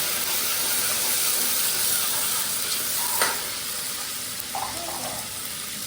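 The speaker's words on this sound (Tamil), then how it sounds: "ஒரு 2 டீஸ்பூன் இஞ்சி பூண்டு விழுது சேர்த்துட்டு அது கூட கொஞ்சம் நல்லா கலந்து விடுங்க" Ginger garlic paste sizzles steadily in a hot pan for vegetable rice, a continuous loud frying hiss with a few brief scrapes of stirring, no voices.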